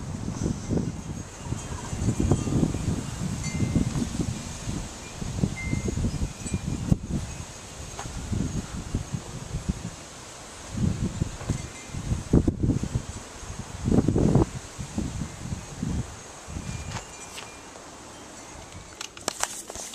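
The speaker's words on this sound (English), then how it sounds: "the wind's starting to kick in" Outdoor wind gusting through trees and leaves by a fence, coming in irregular rustling bursts of varying loudness, close to the microphone with no talking.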